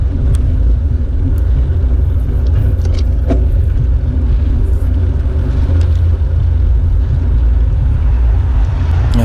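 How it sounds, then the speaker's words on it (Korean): A car comes up from behind and passes cyclists during a road bike race at Buan Saemangeum, a loud, steady low rumble of engine and wind noise that stays close and constant throughout. "지금도 차가 와서"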